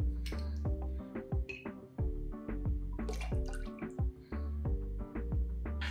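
Maraschino liqueur poured into a cocktail shaker for a Hemingway daiquiri, heard as close, gurgling liquid glugs and drips over several seconds, with no talking.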